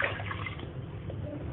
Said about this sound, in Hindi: तो यहाँ पे मैं 3 कप पानी ऐड कर रही हूँ